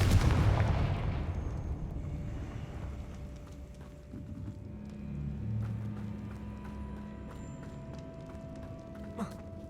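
A Confringo spell blast from the video game Hogwarts Legacy bursts out loudly at the start, then trails into a low rumbling decay over a muted game ambience.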